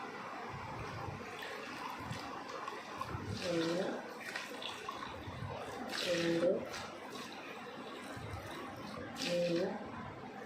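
Water is poured in measured portions into a container while making homemade avaram flower soap, three short splashing pours spaced a few seconds apart as a voice counts aloud.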